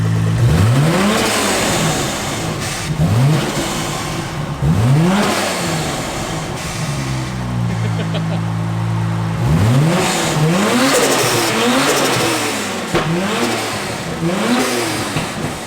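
A Nissan R34 GTR twin-turbo engine with titanium intakes and different-length charge pipes revs repeatedly in sharp rising blips. Each blip falls back to a loud, uneven idle burble, heard close up with no talking.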